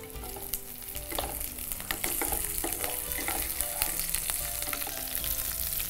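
Garlic and green chili sauté in a hot pan with steady, close sizzling and frying crackle, broken by occasional stirring scrapes; no one speaks.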